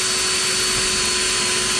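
A drill bit grinds steadily through a stainless steel burner plate, producing a continuous harsh whine with a fixed tonal hum that holds without pause.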